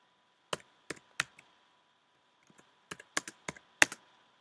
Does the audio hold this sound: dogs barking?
no